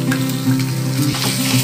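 Steady close sizzling of minced meat hitting softened onions in hot oil, a continuous frying hiss with faint stirring scrapes and no voices.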